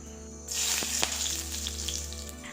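Oil heating in a kadai for soya gravy, with a sizzling hiss that starts suddenly and holds steady and close. A couple of faint clinks sit under it.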